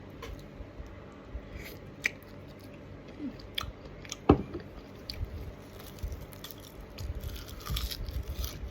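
Crunchy chewing of sweet Korean-sauce pickled shrimp eaten with bitter melon, close and quiet, with soft irregular bites and wet squishy mouth sounds and one sharper crunch midway, no talking.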